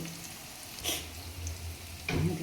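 Onions frying in a pan give a soft, steady sizzle close by, faint and even, with a brief louder crackle partway through and a stir near the end.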